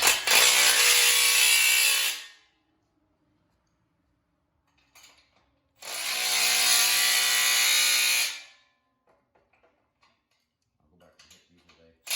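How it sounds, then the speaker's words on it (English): A ratchet snugs 24 mm bolts on a Harbor Freight 2-ton engine hoist, heard as two loud, close bursts of rapid clicking a few seconds apart, separated by near silence with faint scattered ticks. "Ratchet. Just to make sure they're good and snug."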